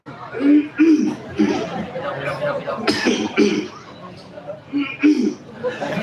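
A cough rises from the audience in a mosque during a sermon, a brief throaty burst amid chatter, light laughter and the preacher's ongoing talk.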